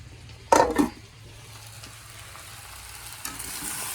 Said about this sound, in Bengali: চলো ইঁচড়টা আর একটু ভালো করে কষাই